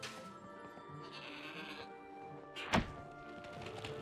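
A goat bleats once in the video game Trine 4, a short nasal cry over a soft steady background with a brief thump near the end.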